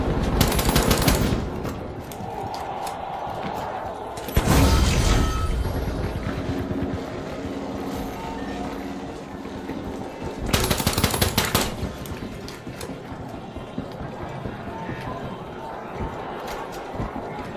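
Gunfire from the shooter The Finals, with bursts of automatic fire near the start, around four to five seconds and again near eleven seconds, over a steady bed of game noise and footsteps.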